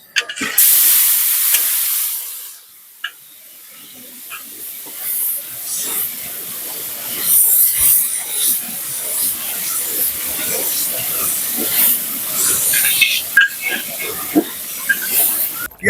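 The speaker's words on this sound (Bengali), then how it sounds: "পেঁয়াজটা ভাজা হয়ে এসছে" Onion paste fries in oil, starting with a loud hissing burst that drops to a quieter, crackling sizzle, with stirring scrapes throughout.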